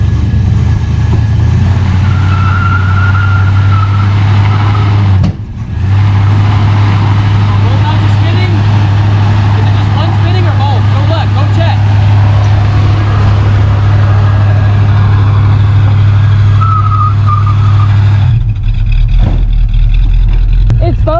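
A 1974 Plymouth parts car, revived after sitting twenty years, runs steadily after starting, its engine holding a loud, even low drone close by, with a brief dip midway and voices talking over it.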